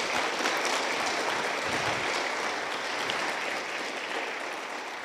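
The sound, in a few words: congregation applause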